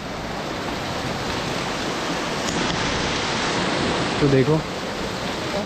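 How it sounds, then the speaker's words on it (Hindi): Continuous broadband roar of a waterfall at a hillside temple site near Bageshwar, steady and close, with someone speaking briefly over it near the end. "ये झरना"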